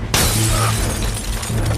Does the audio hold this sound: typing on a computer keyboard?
no